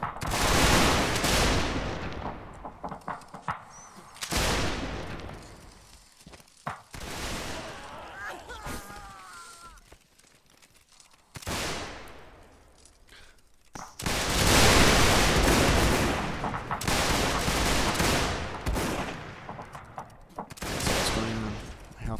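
Massed musket volleys in Mount and Blade Warband crackle in several loud, rolling bursts separated by quieter stretches, with battle ambience and a few distant shouts between salvos.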